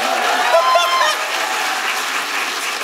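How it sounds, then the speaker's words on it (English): Audience applause at a comedy show, a steady wash of many hands clapping, loud and continuous, with a few brief voices near the start. "Give them a big round of applause to begin the game"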